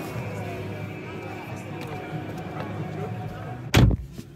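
A car door on a 2023 Dacia Logan slams shut once near the end, a single loud, solid thud after a stretch of quiet idle background noise.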